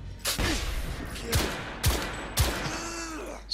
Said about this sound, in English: I could hear him shooting at me from somewhere